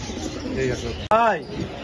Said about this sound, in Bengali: বিশাল বড় সাইজের একজন কিং কবুতর ব্ল্যাক কালারের